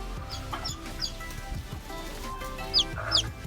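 Newly hatched chicks give a few sharp, high chirps, scattered and fairly close, over a background of low clucking and rustling from chickens.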